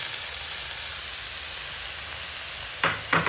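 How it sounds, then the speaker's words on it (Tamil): Washed everyday white rice frying in hot oil in a pan: a steady, close sizzling hiss throughout, with a few sharper stirring scrapes near the end. "இதை போட்டு நல்லா ஃப்ரை பண்ணுவோம்."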